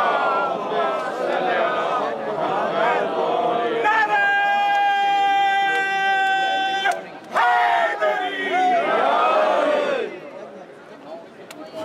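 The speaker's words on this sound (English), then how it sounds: "Please welcome him with a loud salawat" A crowd at an outdoor protest chants salawat loudly in unison, a sustained mass of voices with a drawn-out tonal stretch in the middle, then an abrupt break before the group chant resumes.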